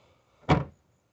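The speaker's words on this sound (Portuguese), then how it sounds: "O carro tá trancado, vou abrir o porta-mala." A short, solid mechanical clunk from an electric release popping open the trunk lid of a Renault Logan, heard once, close and fairly loud, then quiet.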